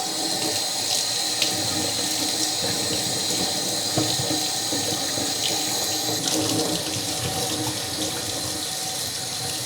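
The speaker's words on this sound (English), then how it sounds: "So we'll just rinse this off." Water from a running tap splashes steadily as an old HMV 65-52 Little Nipper radio part is rinsed underneath, a close, continuous hiss and gurgle with small shifts as the part moves in the stream.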